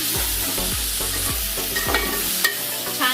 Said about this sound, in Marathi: आता आपण टोमॅटो टाकूया।